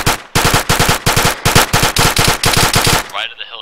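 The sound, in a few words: gunfire in video game ArmA III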